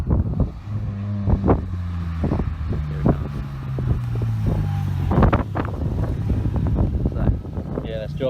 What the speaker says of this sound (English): That's Josh doing his obnoxious flyby.